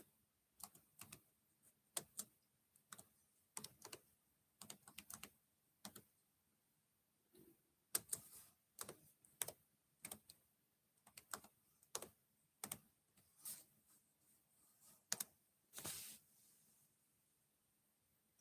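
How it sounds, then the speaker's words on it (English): Computer keyboard typing, irregular bursts of quick close key clicks separated by short pauses, fairly quiet, with no talk. "It would help if I could type."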